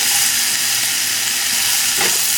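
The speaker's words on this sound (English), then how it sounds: "Now we're going to end up sauteing this for about 4 or 5 minutes." Red onions sautéing in a pot, a steady even sizzle and hiss of frying that continues without pause, with one brief stirring scrape near the end.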